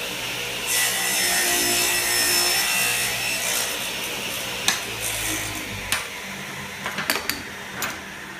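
A saw cuts through a mitered piece of wood set against a stop in a workshop, giving a steady, close rasping drone for about five seconds, followed by a few sharp knocks and clatters as the cut finishes.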